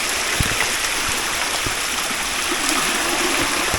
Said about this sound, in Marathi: खूप छोटासा धबधबा आहे पण पाण्याला फोर्स आहे चांगला.